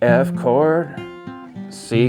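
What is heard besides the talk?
None of the usual background noises is heard.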